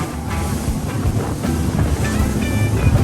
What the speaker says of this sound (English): the waves are picking up even more